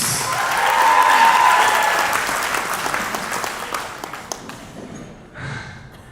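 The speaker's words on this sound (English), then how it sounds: "Yes, another round of applause for Risha," Wedding reception audience bursts into sustained applause, loudest early then tapering off over several seconds, with a brief swell of clapping near the end.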